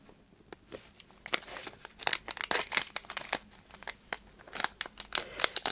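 Crinkly plastic packet of hardware nuts with balls for aluminium profiles being torn and pulled open, sharp crackling rustles coming in irregular bursts, close and fairly loud, with no talking.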